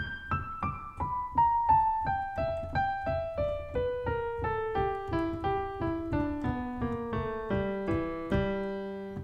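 A gospel piano lick played over and over, each repeat stepping down an octave, in a quick steady rhythm with no voices.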